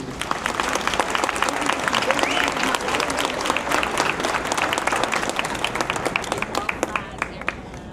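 An audience at a live Atlanta real estate showcase applauds steadily for about eight seconds, a dense, sustained wash of clapping that tapers slightly near the end.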